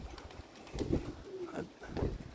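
A few soft coos and calls from three young pigeons on a roof close by, spaced irregularly over a quiet background.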